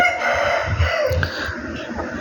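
A parrot-beak, fan-tailed fighting rooster crows once nearby, a loud, drawn-out call over faint background noise from the farm.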